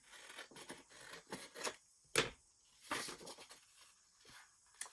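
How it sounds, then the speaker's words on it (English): Scissors cut paper for a junk journal in a quiet room, a series of short close snips and crisp slicing strokes with pauses between, one sharper snip standing out midway. "I'm actually going to cut off this edge."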